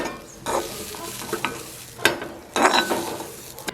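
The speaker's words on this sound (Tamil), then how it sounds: "தேங்காய் பூ எல்லாம் வறுத்து இறக்கிட்டோம்" Grated coconut dry-roasting in a pan, heard as a few brisk scraping stirs with a ladle, each burst short and close, separated by quieter moments of faint crackle.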